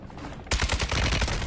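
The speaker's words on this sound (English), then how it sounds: "No, I'm shooting. I'm shooting." Game gunfire breaks out suddenly in a rapid burst of close, loud automatic shots, each crack following the last at an even, fast rhythm.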